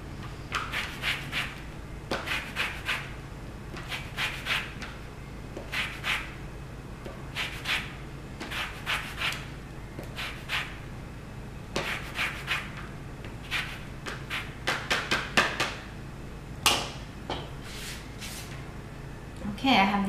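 Orange being zested into a jar: a series of short, soft scraping bursts repeating at a steady rhythm, close by and fairly quiet.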